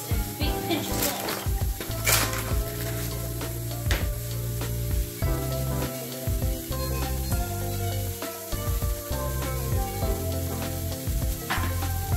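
Butter and rice fry steadily in a pan with salt, a constant close sizzle under rhythmic spoon scrapes and clinks, while people talk over it.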